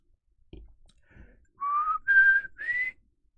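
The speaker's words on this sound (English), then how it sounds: "In my mind, I was going to do an epic whistle, and it's still a little dry." A person whistles a short three-note phrase, each note rising in pitch, close and clear. A couple of soft bumps come just before it.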